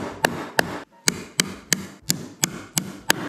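A hammer taps pieces down into wood in a steady series of about eight sharp, close knocks, each strike separate and loud over a low room hum, with no talking.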